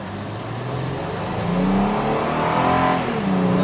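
A 2011 Toyota Tacoma pickup engine accelerating hard up to 65, its pitch climbing steadily over a few seconds with a brief dip as it shifts gears, heard from inside.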